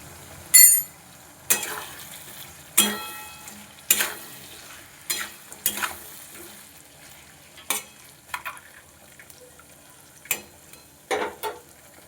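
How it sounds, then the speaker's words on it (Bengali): Potatoes and onions fry in fish oil with salt and turmeric, a quiet background sizzle broken by a dozen sharp stirring scrapes against the pan at irregular intervals, with no talk. "আলু পেঁয়াজ দুটোই সেদ্ধ হয়ে যাবে ভাজাও হয়ে যাবে"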